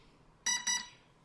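Two short, bright electronic beeps in quick succession come from a homebuilt drone's ESC during throttle calibration, a confirmation tone, close and distinct against a quiet background.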